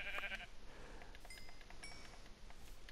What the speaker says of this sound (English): I will get another sheep and call it Mr. Black Sheep.